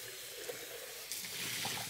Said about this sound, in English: All I'm going to do is use warm water, rinse down the sides like this.